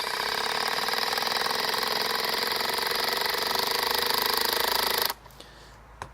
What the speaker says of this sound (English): Let's try the 10 gauge on speed 1.